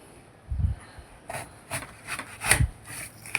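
A knife slices through an apple in a few separate strokes, each a short crisp crunch and scrape, close and fairly quiet, with soft handling noises in the pauses between cuts.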